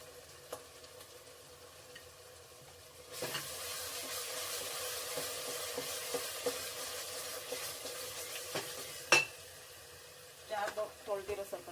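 Ground masala paste for egg biryani sizzles loudly as it hits a hot pan, then fries steadily with scraping stirs and a few sharp clanks of the spoon against the pan.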